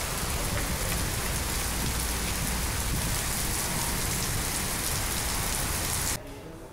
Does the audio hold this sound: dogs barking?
no